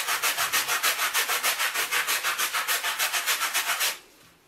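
A brush scrubs a black stain out of a carpet with fast, even back-and-forth strokes, a loud, close, regular swishing that runs for about four seconds and then stops abruptly.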